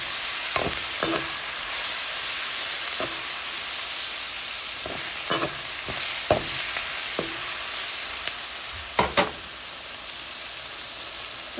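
Onions sautéed in a pan with coriander powder, stirred with a spatula: a steady broadband sizzle runs throughout, broken by a dozen or so sharp scraping clicks of the utensil against the pan, close and fairly loud, with no voices.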